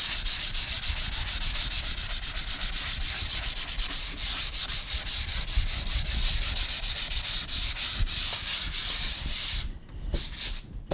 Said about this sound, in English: It's not just grab a sanding sponge and go to town on it.